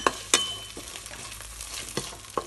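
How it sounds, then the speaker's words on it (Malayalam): Ginger, shallots and garlic sauté in hot oil in a pan for a sardine roast, a soft steady sizzle punctuated by a few quick scraping stirs of a spoon, close and unaccompanied by talk. "ഇഞ്ചി ഇട്ട് കൊടുക്കുന്നുണ്ട് ചെറിയുള്ളി ഇട്ട് കൊടുക്കുന്നുണ്ട് വെളുത്തുള്ളി ഇട്ട് കൊടുക്കുന്നുണ്ട് നമുക്ക് നന്നാക്കി ഒന്ന് വഴറ്റിയെടുക്കണം"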